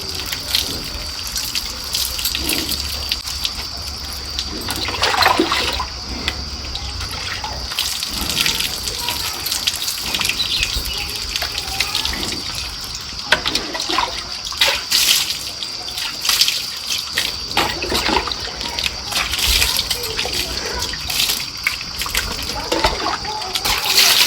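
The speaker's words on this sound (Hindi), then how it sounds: "और पानी डालते जाओ" Water is poured and splashed over a child during an outdoor bath with fresh water from a drum, a continuous gushing and splattering with bursts of splashing, while people talk over it.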